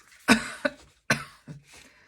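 A person coughs in several sharp bursts: two close coughs, a pause, then two or three more, nearby and fairly loud with short silences between.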